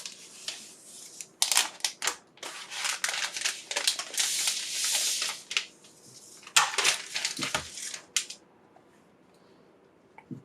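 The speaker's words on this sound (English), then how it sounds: "Taking off the plastic of a new machine." Protective plastic film is peeled off a new MacBook Air M1, giving close, crisp crinkling and tearing bursts in irregular spurts that fade to quiet near the end, with no talking.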